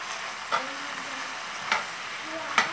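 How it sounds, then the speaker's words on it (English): Greens cooking down in a breakfast sausage hash in a pan, with a steady close sizzle broken by three brief scraping stirs, each swelling the frying sound. "Right now, I'm just mixing the greens in, letting them cook down a little bit."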